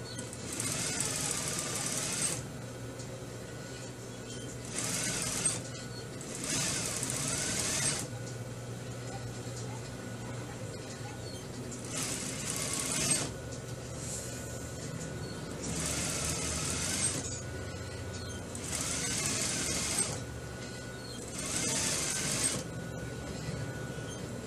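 A domestic sewing machine stitches a simple hem on a women's dress, whirring in several bursts separated by pauses, with a steady mechanical hum throughout.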